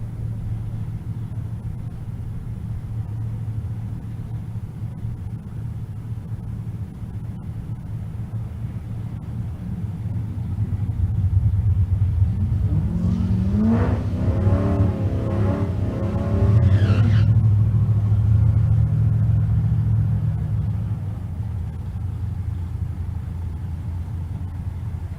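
Drag racing at a race track in Kearney, Nebraska, including a C6 Corvette: a steady distant engine rumble swells into a loud roaring pass with rising engine notes, then fades back to a low drone.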